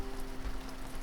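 Soft, steady rain patters on a surface at low level, an even hiss of drops with no voices.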